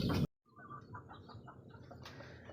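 A white gold bloodline hen brooding eggs gives a series of soft, rhythmic clucks, close and fairly quiet after a brief burst of noise at the start.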